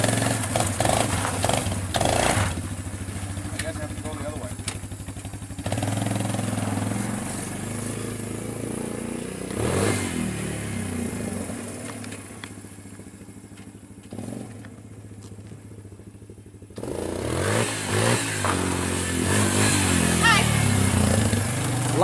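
A Suzuki Ozark 250 quad runs nearby, its engine rumbling and rising in bursts with clattering along the way, fading quieter in the middle stretch before surging back louder, with people talking over it.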